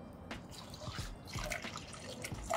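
Fluid pours into a Honda Civic radiator with soft irregular trickles and drips, faint and close, over quiet background noise.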